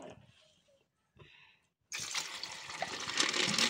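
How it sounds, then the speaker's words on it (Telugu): Water poured into an aquarium fish bowl, a steady close splashing gush that starts abruptly after a few faint taps and stays loud to the end. "మంచి వాటర్ పోయాలి"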